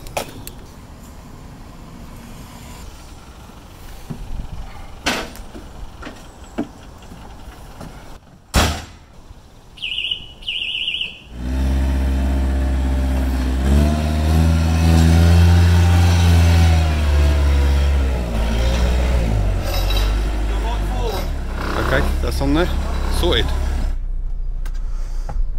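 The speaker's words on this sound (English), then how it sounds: "That's the second time that truck's gone past, that white one." A white truck's engine rumbles loud and close for about twelve seconds, a deep droning roar that rises and then falls away, after quieter clicks and knocks. People talk in the background.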